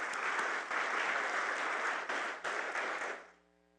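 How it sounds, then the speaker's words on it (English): Audience applause fills a housing summit plenary on civil rights and fair housing, steady and full from the start, with a few dips before it fades out near the end. "Let's give them all a round of applause."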